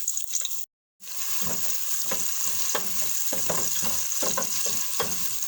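Onions sautéing in a generous amount of oil until golden for chicken kabsa, a steady close sizzle with repeated stirring scrapes and clicks after a short silent gap.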